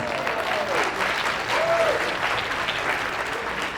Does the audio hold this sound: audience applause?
yes